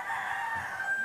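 A rooster crows in a backyard poultry area of a Filipino home where chickens, tilapia, rabbits and dogs are kept. The call is one sustained, strained note that carries steadily for about a second, loud and close.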